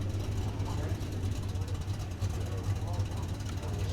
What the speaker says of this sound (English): Ford Mustang, trying to get as much traction away from the start line as possible